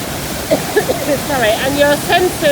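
Colwith Force, a small Lake District waterfall swollen after heavy rain, roars in a steady broad wash of water noise while someone speaks over it nearby.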